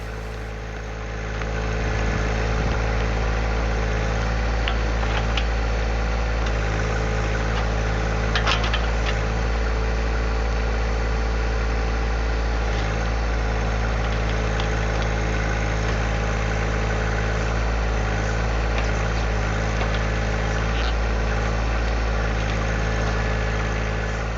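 A John Deere 1025R compact tractor engine idles steadily and loudly up close, a constant low rumble with a mechanical hum that barely changes throughout.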